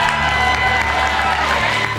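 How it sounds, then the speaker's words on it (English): Audience applause mixed with cheering and whoops at a school district staff achievement recognition, a steady crowd roar sustained through the whole stretch with voices shouting over the clapping. "Give her a round of applause."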